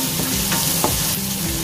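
Onion and garlic sauté in a pan for Ilocano igado, giving a loud, dense sizzle with brief scraping stirs from a utensil, close and without voices.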